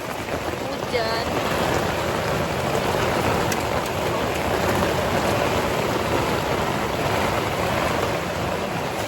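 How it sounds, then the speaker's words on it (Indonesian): Steady rain falling on Mount Aseupan, a dense continuous hiss of drops close by that holds an even level throughout, with no other clear sound above it. "Hujan."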